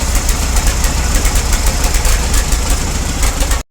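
A tractor engine with a weak alternator runs with a loud, steady, rhythmic chugging close by, then cuts off abruptly at the very end.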